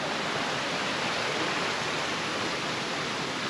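River water flows beside a wild camp on a farm in a steady, dense hiss and rush, close and unbroken, with no voices.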